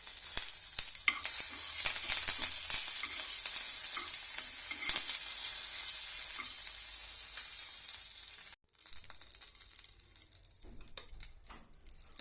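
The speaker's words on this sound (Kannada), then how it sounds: "ಸಾಸಿವೆ ಹಾಕ್ತೀನಿ, ಚಟಪಟ ಅಂತೈತಿ ಸಾಸಿವೆ." Mustard seeds, a dried chili and curry leaves tempering in hot oil for a Davangere-style thick chutney: loud, close, crackling sizzle with popping, a brief break, then a quieter continued sizzle.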